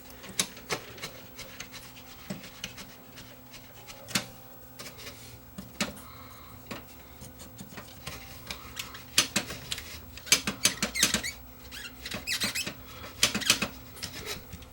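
Stiff sliding and rubbing of the loading mechanism on a Sony UVW-1400 Betacam SP VCR, with scattered clicks, squeaks and scraping in irregular bursts, close up and fairly quiet.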